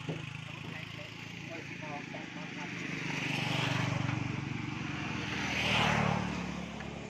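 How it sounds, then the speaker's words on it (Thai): Kubota MU5702 tractor being driven, a steady low engine drone that swells and fades as it passes, heard at a moderate distance. "นี่ขับรถไถ"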